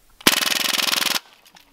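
An automatic air rifle fires a fast burst of pellets outdoors, a rapid, loud, evenly spaced rattle of around twenty shots lasting about a second, then abrupt quiet.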